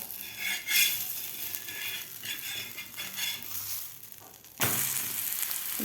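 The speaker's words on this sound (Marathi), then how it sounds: "आता आपण थालीपीठ पलटी करून घेऊया" Vegetable thalipeeth fries on a pan and is flipped, with a low steady sizzle, several scraping spatula touches, and a sudden louder burst of sizzling after the turn near the end, no speech.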